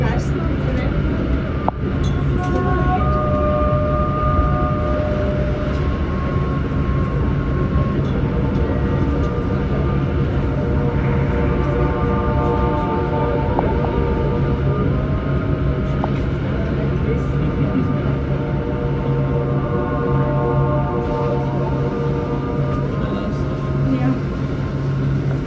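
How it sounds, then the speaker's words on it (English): A train rumbles steadily with a low, continuous drone and faint metallic tones, running throughout at a constant level as it pulls into the terminal tunnel station at Zurich Airport. "The train is arriving at the final station."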